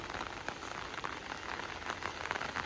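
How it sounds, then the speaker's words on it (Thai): Morning rain falls steadily, a dense patter of drops on surfaces with scattered louder close splashes, continuous and fairly near, with no voices. "พาชมบรรยากาศฝนตกรินสดชื่นยามเช้า"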